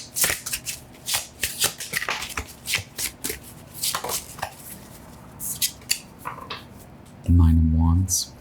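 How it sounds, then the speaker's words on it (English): An Ethereal Visions Illuminated Tarot deck is shuffled by hand in quick, crisp riffling bursts, close up, ending with a louder blurry clatter of cards. "This is the Ethereal Visions Original Illuminated Tarot by Matt Hughes."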